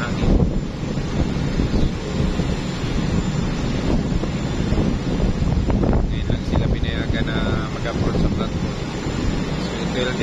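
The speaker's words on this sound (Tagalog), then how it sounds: "medyo malakas ang hangin." Strong wind roars steadily into the microphone at sea aboard a platform supply vessel, with surging waves and the boat's rumble underneath, and a voice speaks faintly beneath the noise.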